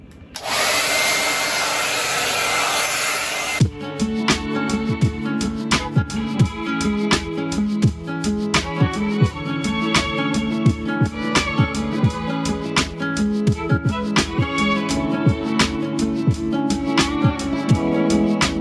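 A hair dryer runs on high heat, blowing steadily and close, with a run of sharp rhythmic clicks and taps layered over the whir for most of the stretch.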